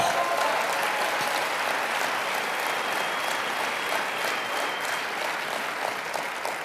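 An audience at a network marketing speakers' event gives itself a round of applause, continuous crowd clapping that holds steady and tapers a little toward the end.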